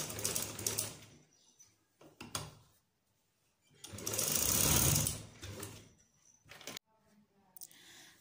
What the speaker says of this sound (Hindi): डबल करने के बाद सेम पहले की तरह हम इसके कट्स के साइड साइड्स पर सिलाई लगा लेंगे